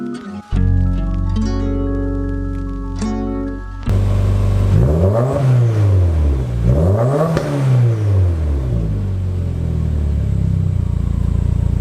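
A Subaru WRX engine starts up and revs repeatedly in a garage, loud and close, with rising and falling surges over a steady rumble and no talking.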